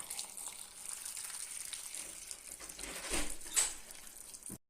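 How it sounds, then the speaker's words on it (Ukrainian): Boiling water pours and splashes steadily into a pot, with a brief louder gush near the end before it cuts off. "наливаю окроп"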